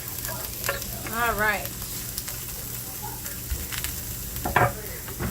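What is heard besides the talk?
onions and garlic sizzling in olive oil in a pan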